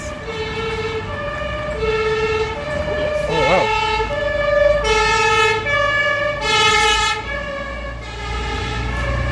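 A fire truck siren wails loudly nearby in a Stockholm cemetery, its rising and falling tone sweeping through the whole stretch over steady traffic rumble, with a brief exclamation from a person partway through.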